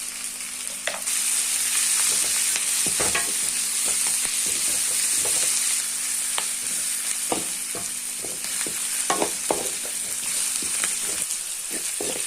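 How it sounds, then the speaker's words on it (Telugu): Coriander, tomatoes and turmeric fry steadily in a pan for lemon rice, a continuous close sizzle with scattered pops and occasional utensil scrapes and no speech. "ఇట్లా బాగా వేయించుకోండి."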